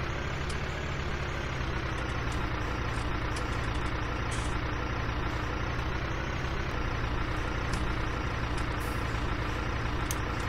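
A vehicle in Farming Simulator 19 drives steadily toward a biogas plant, giving a constant loud engine drone and rumble with no letup and no voices.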